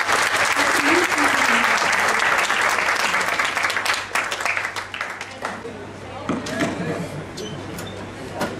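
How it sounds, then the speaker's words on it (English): An audience at a campus event applauds loudly and steadily for several seconds. The clapping then thins out and fades while voices talk in the background. "Please give them a big round of applause."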